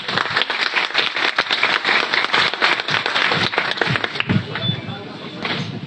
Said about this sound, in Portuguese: Vamos receber o seu Pedro com uma salva de palmas